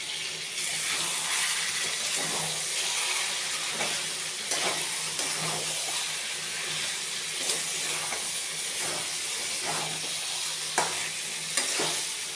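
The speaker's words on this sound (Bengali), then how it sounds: "আর 10 মিনিট মতন ভাজবো" Food fries in oil in a pan with a steady, even sizzle throughout, broken by a few soft clicks and scrapes of stirring, close and moderately loud with no talk.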